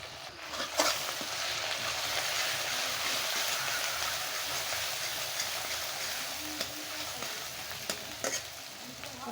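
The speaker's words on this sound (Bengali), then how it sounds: "বেগুনের ভর্তাটা আমি এখানে তেলে দিয়ে দিলাম" Mashed eggplant (begun bharta) frying in hot oil in a pan, a continuous close sizzle with occasional faint stirring clicks, steady throughout without speech.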